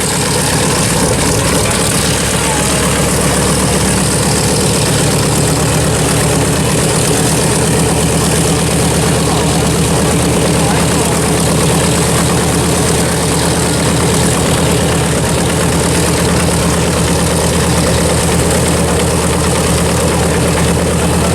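A World War II B-25 bomber's engines run steadily at an airport planespotting display, a loud, continuous propeller drone and idle rumble with no talk over it.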